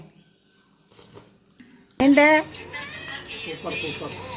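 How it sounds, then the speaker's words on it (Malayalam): After a quiet stretch, a cat lets out one loud, close meow, followed by softer vocal sounds that continue under it. "പൂച്ച വന്നിട്ടുണ്ടല്ലോ"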